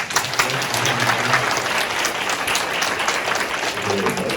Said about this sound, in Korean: 유현준 교수님께 박수 한번 부탁드립니다